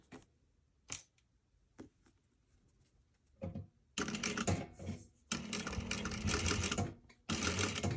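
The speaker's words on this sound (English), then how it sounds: "I'm just gonna sew kind of a little bit off from the seam on the cording, because I'm just putting a basting stitch in there." Sewing machine running in bursts while basting a stitch along a corded fabric seam, short start-stop runs giving way to long steady whirring stretches, close and alone with no talk.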